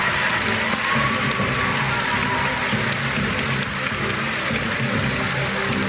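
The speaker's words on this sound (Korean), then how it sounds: "모두가 박수치고 있어." An audience applauds continuously at a fan event for a K-pop girl group, a dense, even patter of many hands clapping with faint crowd noise underneath.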